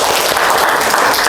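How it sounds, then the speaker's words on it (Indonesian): Brief burst of classroom applause as students clap for a classmate, loud and dense, filling the whole short moment with no speech over it. "Beri tepuk tangan untuk Marte."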